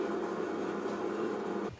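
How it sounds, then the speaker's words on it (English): A wood stove fan hums steadily with a constant low whirring drone, then the sound drops off near the end. "And that noise you hear in the background is the fan on the wood stove."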